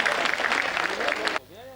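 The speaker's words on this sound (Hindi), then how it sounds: "बहुत जोरदार तालियां" Audience applause at a Hindi poetry recital, a dense wash of clapping that fills most of the clip before cutting off abruptly, leaving a short tonal tail.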